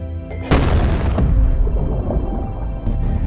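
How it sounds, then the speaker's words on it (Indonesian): A sudden loud bomb blast in a film erupts, followed by a heavy rumbling roar that slowly fades, with a second smaller burst near the end. "Hingga sepersekian detik ledakan pun terjadi di kedua titik."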